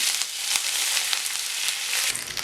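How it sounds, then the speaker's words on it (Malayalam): Dried red chillies and curry leaves crackle and sizzle in hot oil, a dense, steady frying hiss close by with small pops throughout and a brief stir near the end. "അല്പം കറിവേപ്പിലയും കൂടി ഇട്ടിട്ട് പിന്നെ മൂപ്പിച്ചെടുക്കണം"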